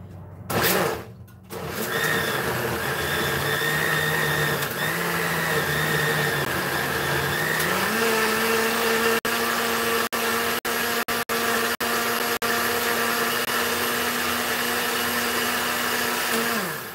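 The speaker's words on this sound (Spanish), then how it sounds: "Y lo vamos a licuar. Está conectado." A kitchen blender runs continuously, whirring as it purées cheese and spinach for a cream sauce; its motor pitch rises midway and keeps a steady, loud drone until it shuts off.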